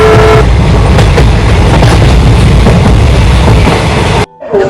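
A train pulls into a railway station with a loud, close, continuous rumble and rattle of wagons, a brief horn-like tone at the start, and the noise cutting off abruptly near the end.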